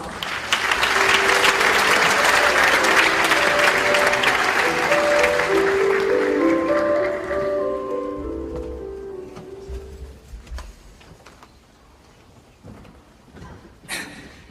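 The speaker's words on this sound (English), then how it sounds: "please give Professor Kwon a big round of applause." A large closing-ceremony audience at an international congress bursts into sustained, loud applause with a musical tone rising beneath it, then the clapping thins and fades to scattered claps and near quiet.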